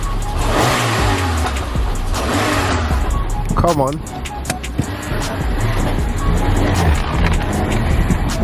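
A Peugeot car on its standard exhaust revs hard beside a wall with loud engine roar, a quick rising-falling rev around the middle and some sharp pops and crackles, while people talk excitedly over it.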